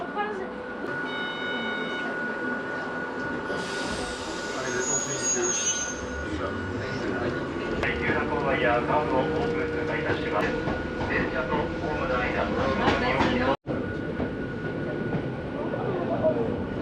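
A train stands before departure at a station, with a steady low rumble, mechanical hums, tones and squeaks throughout, and a voice talks over it.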